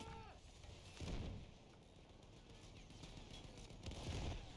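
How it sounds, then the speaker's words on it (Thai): Explosions and artillery fire in the World War I shooter Battlefield 1, heavy booms swelling twice over a dense rumbling battlefield bed, loud and continuous with distant gunfire. "โอ้ยระเบิด จริง"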